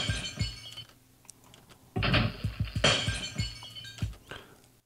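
Glass shattering in a crash as an alarm clock is smashed, a loud sudden burst followed by several scattered tinkling and clinking fragments falling and settling over a few seconds.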